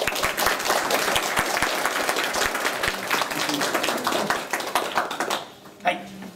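Dense applause from a large, standing audience at the end of a physics lecture, steady and loud for several seconds before tapering off near the end.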